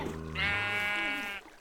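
A sheep in a survival video game gives one long, loud, wavering bleat lasting about a second, heard alone after a brief low sound.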